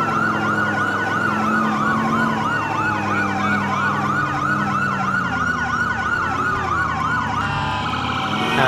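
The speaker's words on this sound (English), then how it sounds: "I finally got my siren to take," Police car siren in GTA IV with the LCPDFR mod, a loud continuous rapid wailing yelp cycling steadily throughout at night, with layered siren tones close and unbroken over the whole stretch.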